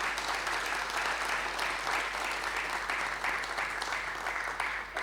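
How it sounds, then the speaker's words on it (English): A conference keynote audience applauds steadily for about five seconds, a thick continuous patter of clapping at moderate volume with no voices standing out. "applause and a thank you for all the work that they do."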